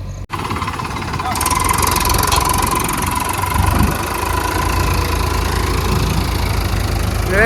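A tractor engine runs loudly and steadily nearby with a rough, knocking chug, its tyres stuck on a slope, dominating throughout.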